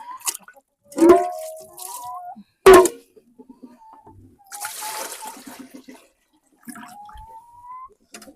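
Clean water is poured out for chickens in a village yard, with a brief splashing pour in the middle. Short vocal sounds and scattered noises come and go around it, with quiet gaps between.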